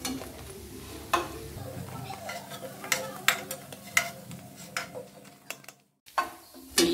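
Moong palak tikki frying in oil in a pan, with a steady low sizzle under repeated close clicks and taps of a utensil turning the pieces, then a brief drop to near silence.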